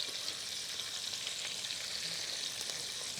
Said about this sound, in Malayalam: ചിക്കൻ നമുക്ക് ഹാഫ് ഫ്രൈ ചെയ്തിട്ടാണ് എടുക്കേണ്ടത്.